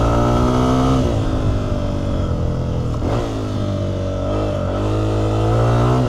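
A 2026 Honda CRF300F dirt bike on a desert ride revs hard close by, its engine note climbing and briefly dipping twice as it shifts up through the gears, loud and alone.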